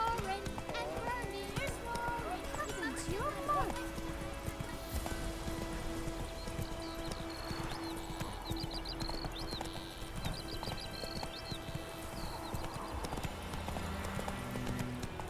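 Roach, a horse in The Witcher 3, gallops with rapid, continuous hoofbeat clip-clops and an occasional whinny, set against game music with a voice speaking.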